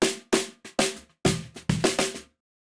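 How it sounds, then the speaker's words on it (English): Snare drum picked up by two microphones with no phase correction, struck in a loose pattern of about nine hits over two seconds, sharp attacks and quick decay, a little thin in body, alone. "This is the sound of the snare drum through both microphones without phase correction."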